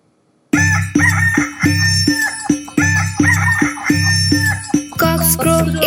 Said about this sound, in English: Cocks crow in the morning to tell us to rise